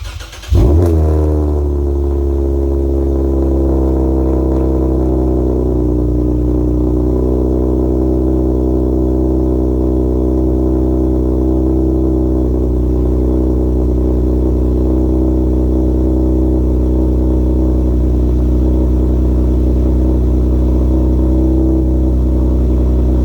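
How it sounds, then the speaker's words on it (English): A 2007 Lexus IS350 engine cold-starts with a sharp crank and catch, flares briefly, then settles into a steady, loud, close-up high idle that holds for over twenty seconds with no talking. "This is my cold start."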